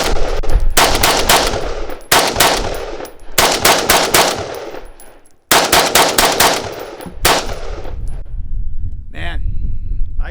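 AR-180 Armalite rifle firing outdoors, several loud close strings of rapid semi-automatic shots separated by short pauses, each burst ringing out, with a person speaking briefly near the end.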